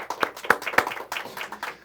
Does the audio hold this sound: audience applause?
yes